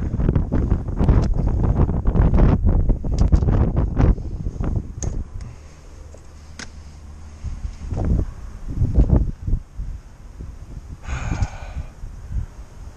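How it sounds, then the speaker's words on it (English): Wind gusts buffet the microphone on the Appalachian Trail, producing a loud, rumbling roar for several seconds. It then drops to quieter, intermittent puffs of wind, with no speech. "That wind started blowing."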